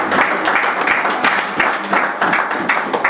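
Congregation in a church applauding loudly and steadily, dense continuous clapping from many hands filling the room without a break.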